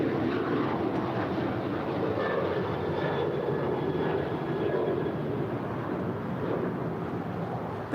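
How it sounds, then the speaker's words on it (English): United Boeing 737-900ER departing LAX for Denver: a continuous jet rumble at moderate distance, steady and broadband with a faint whine, easing slightly at the end, with wind buffeting the microphone. "departing to Denver. It's a 737-900ER."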